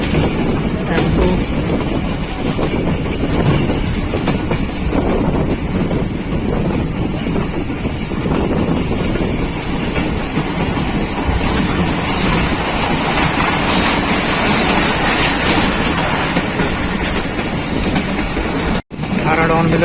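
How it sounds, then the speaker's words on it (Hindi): The Millat Express passenger train runs on rails in Pakistan, a loud, continuous rumbling roar with wind buffeting throughout and a brief drop-out near the end. "डाउन मिल्लत एक्सप्रेस बलवाल पहुंच रही है।"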